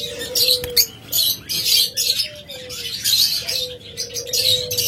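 Pet cage birds such as lovebirds, budgerigars and cockatiels chirp and tweet busily up close, a dense overlapping chatter with repeated short whistled calls throughout.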